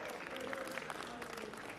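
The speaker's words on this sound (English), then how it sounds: "There's a big cheer for all our referee crew for this year's Winter League." Faint, distant applause and cheering from a crowd at a box lacrosse Winter League event, a steady spread of claps with no clear voices on top.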